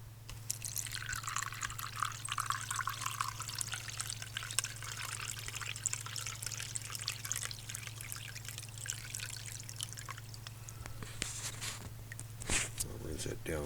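Liquid trickles and drips through a filter during home gold refining with aqua regia, a faint steady pour under a low constant hum, with a person talking over it.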